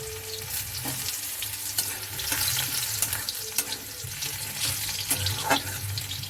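Garlic and dried red chillies sizzle in hot oil in a home kitchen pan, a loud continuous crackle broken by repeated stirring scrapes and clacks, with no talking.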